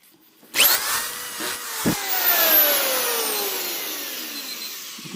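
A Senco cordless drywall screwdriver spins up after a brief silence into a loud whirring drive with a rising then slowly falling motor pitch, a sharp click partway through as a screw seats, close and with no one talking.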